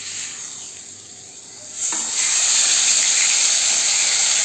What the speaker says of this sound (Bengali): তেলের মধ্যে আমি মাছটাকে দিয়ে দেব।